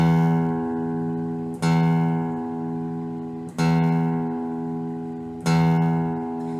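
One guitar string is picked in a slow, steady rhythm, four clear plucks spaced evenly apart, each note ringing and fading before the next attack, with no voices.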